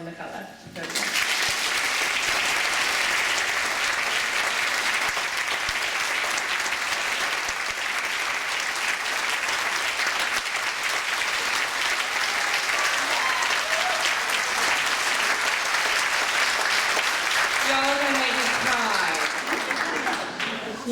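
Warm audience applause welcoming a lecturer, a sustained, loud wash of clapping from a large crowd that lasts the whole stretch, with a voice speaking near the end.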